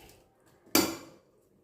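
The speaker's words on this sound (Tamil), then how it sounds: "ஒரு கடாய் வச்சுருக்கேங்க" A kadai (wok) is set down on a stove for tempering with a single sharp metallic clank that rings out and fades over about half a second in a quiet kitchen.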